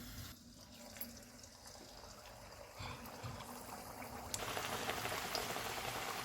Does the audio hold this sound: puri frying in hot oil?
yes